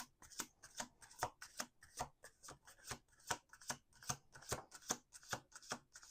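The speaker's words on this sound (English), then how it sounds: "We're going to do 2 more shuffles." A deck of tarot cards is shuffled by hand in a quiet room, rapid riffling bursts repeating in a steady rhythm, close and fairly soft, with no talking.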